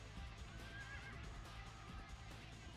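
A horse in Dynasty Warriors 2 gives a faint whinny over a steady wash of battle noise and low rumble, with hooves faintly clopping underneath.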